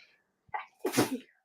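A single sharp sneeze, close and clear, preceded by a brief quick inhale, then quiet.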